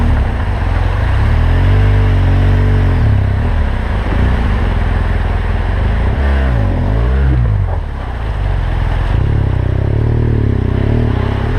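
A heavy 268 kg adventure motorcycle loaded for an off-road trip in Albania wades through a riverbed, its engine rumbling and revving steadily close by with splashing, clattering water throughout.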